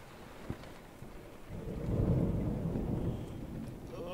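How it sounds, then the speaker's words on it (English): Thunder rumbles in the Avarice video game, a low swelling roll that builds after a faint crack and holds steady under a soft wash of rain. There is no talking. "It's like so quiet except for the thunder."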